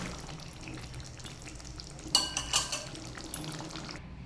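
Pumpkin and chickpea curry being stirred and scooped in a pan, a soft low simmering bed with a few brief scraping clatters of a utensil in the middle, fairly quiet.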